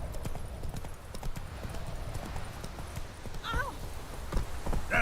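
Roach, a horse in The Witcher 3: Wild Hunt, gallops with loud rhythmic hoofbeats that carry throughout, and a brief neigh breaks in near the end.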